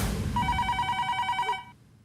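A telephone rings with a single sustained electronic trill of about a second and a half, clear over quiet room sound, then cuts off to near silence.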